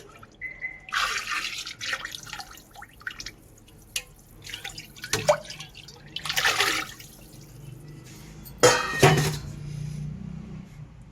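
Buttermilk being poured into a container while mixing a plant tonic, a liquid splashing and dripping in several bursts with no talk.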